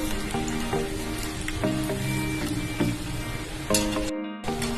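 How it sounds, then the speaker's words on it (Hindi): Chinese gold fingers fry in preheated oil with a dense, continuous sizzle and crackle and scattered pops. A few brief clattering utensil knocks and a short dropout break in partway through, and no one speaks. "Here my gold fingers are ready to fry."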